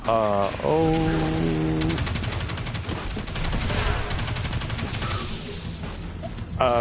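Rapid automatic gunfire from a weapon in the first-person shooter Destiny 2, played as a Warlock, sounding as loud, continuous bursts of shots layered over booming game effects and music, with no talking.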